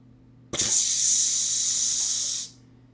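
A voice imitates water spraying from a sink in a wizard's tower bathroom, a sudden loud steady hiss that starts sharply, holds for about two seconds, then fades out quickly.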